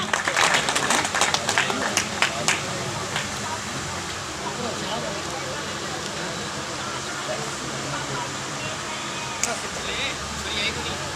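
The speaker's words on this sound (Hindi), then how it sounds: "जोरदार तालियां।" Applause from an audience at a student award ceremony in Hanumangarh, Rajasthan, with a burst of clapping at the start settling into a steady crowd wash throughout, voices mixed in.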